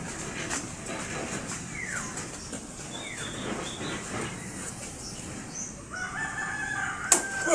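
Chickens on a farm cackle and call, with a rooster-like crow and scattered clucks sounding moderately faint over steady outdoor background noise.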